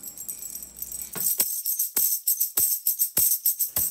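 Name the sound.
tambourine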